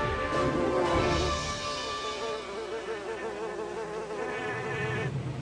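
Buzzing of monster bees in a cartoon, a continuous warbling insect drone with wavering pitch that stays loud and close throughout, swelling slightly at the start.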